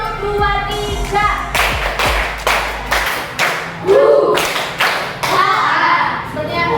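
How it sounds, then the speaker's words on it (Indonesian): Rhythmic hand clapping from an Indonesian classroom clap game, a group of children clapping in short grouped bursts with pauses between them, loud and close, while a teacher leads with speech between the claps. "Tepuk semangat versi 1."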